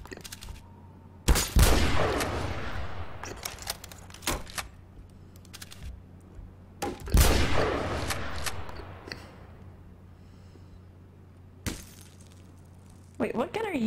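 Gunfire in a video game with an Intervention sniper rifle: a few sharp, loud shots spaced seconds apart, each trailing into a clattering tail, with smaller clicks between and players talking.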